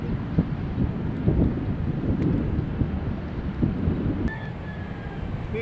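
Blustery wind buffets the microphone in low rumbling gusts, steady and fairly loud throughout, with a brief high whine near the end.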